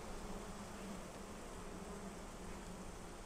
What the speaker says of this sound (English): You can hear the buzz.